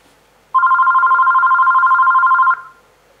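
A telephone rings steadily for about two seconds, a loud continuous electronic trill with a fast pulsing warble, standing alone in a quiet room.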